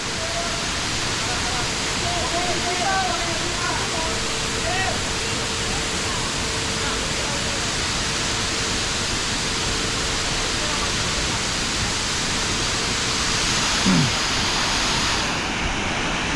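Constant rushing roar of falling water at Hinulugang Taktak falls in Antipolo, Rizal, a dense steady wash of noise throughout, with a faint tone and a brief thump near the end.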